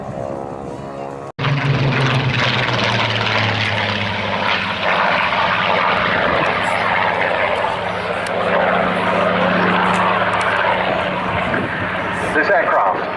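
Propeller aircraft flying an opposition pass at the Duxford summer air show in 2025, with a loud continuous engine roar that swells and fades after an abrupt start, and a voice talks over it.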